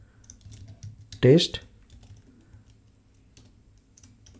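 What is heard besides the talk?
typing code on a computer keyboard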